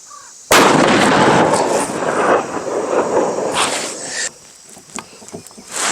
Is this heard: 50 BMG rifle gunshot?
yes